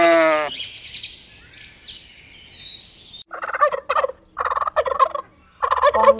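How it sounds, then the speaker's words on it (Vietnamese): A turkey gobbles in several loud, close bursts of rapid rattling calls separated by short pauses, following a few higher bird chirps at the start. "Con gà Tây."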